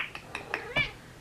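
A house cat meows several times in quick succession indoors, short close mews ending in a louder, drawn-out call.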